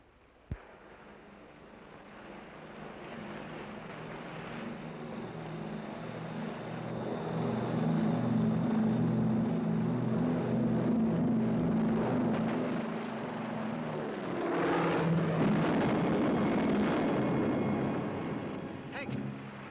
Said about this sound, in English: Come on, we'll miss the takeoff.